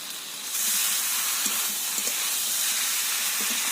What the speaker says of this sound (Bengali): মশলাটা পটল আলুর সঙ্গে খুব ভালো করে কষিয়ে নেব